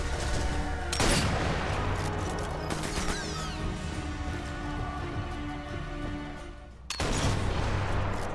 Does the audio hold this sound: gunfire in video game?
yes